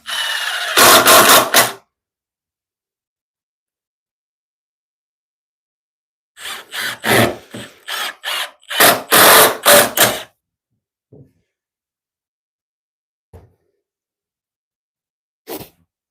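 A power drill drives screws into a wooden workbench in short, sharp whirring bursts: one at the start, then a quick series of several, followed by long silences broken by a few faint knocks.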